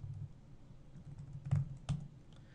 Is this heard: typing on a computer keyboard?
yes